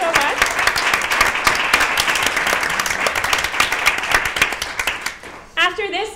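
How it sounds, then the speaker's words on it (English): An audience at the 2015 Latke-Hamantaschen event applauds in a full, steady round of clapping that fades near the end as a voice comes in. "Let's give everyone one last round of applause."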